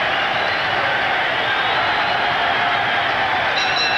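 A large boxing crowd at Wembley roars and cheers at the close of a British Heavyweight Championship fight, a loud continuous wash of voices filling the arena.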